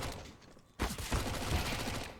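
MAC-10 submachine gun fire in Counter-Strike: Global Offensive on the Overpass map. After a quiet start, it breaks into a loud, continuous rapid-fire burst that runs to the end.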